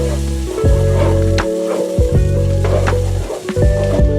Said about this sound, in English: I'm going to add my rice to the pot like this, and then we're going to give it a nice stir to get that color in there